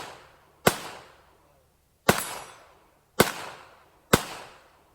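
Four sharp, loud pistol shots ring out at a Peacemaker two-gun shooting match, spaced about a second apart with short decaying echoes and near-silence between them.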